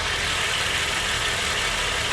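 A 2004 BMW X3 engine idles with a misfire, heard close up as a steady, loud broadband rumble with a rough low-end texture throughout.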